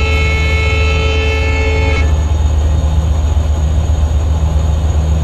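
A passenger train's horn in Train Simulator 24 blares as a loud sustained multi-tone blast for about two seconds, then cuts off, leaving the steady rumble of the locomotive rolling along with no talk.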